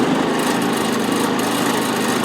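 A Powerhorse 3500 generator runs steadily nearby, a constant loud engine drone with a buzzing hum and no pauses.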